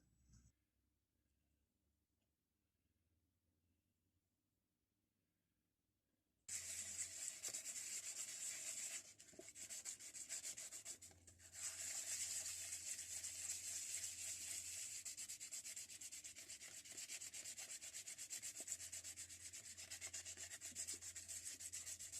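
Quiet at first, then steady rhythmic rubbing of hand sanding on cured two-part epoxy on a cracked rusty vice, continuing back and forth with a brief pause partway.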